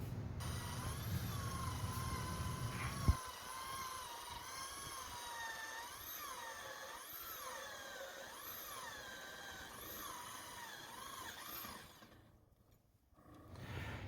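A hammer drill bores a 4-inch hole through wood for a wall vent hood. A low rumble gives way to a steady, wavering high motor whine that runs continuously, then drops off briefly near the end.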